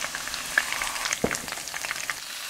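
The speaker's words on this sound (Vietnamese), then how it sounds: "Tiếp theo mình chiên sơ cá để khử mùi, giúp cá được thơm hơn khi nấu cháo." Fish pieces frying in about three spoonfuls of hot oil with shallots, a steady close crackling sizzle with scattered sharp pops throughout.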